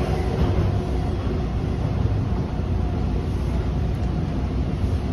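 Bombardier T1 subway car on the Toronto TTC line between Warden and Kennedy, heard from inside as a steady, loud, dense rumble and roar of the moving train with no break throughout.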